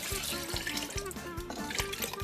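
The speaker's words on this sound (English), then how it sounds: "time to add some water." Water pours into a pot of thick brisket cooking mixture with meat in it, a continuous splashing, gurgling stream close to the microphone with rhythmic sloshing pulses and no voice over it.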